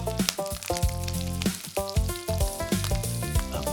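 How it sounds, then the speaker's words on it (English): Chicken drumsticks sizzle in a heated skillet with a steady frying hiss, partly masked by loud melodic background music. "We carefully place the drumsticks in the heated skillet. Hear how they immediately start sizzling?"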